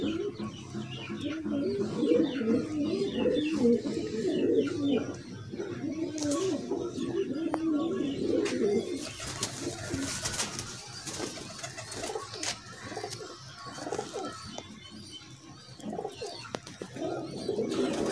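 Sialkoti battery pigeons cooing in a loft, repeated low throaty coos close by, with someone talking over them and faint chirps mixed in.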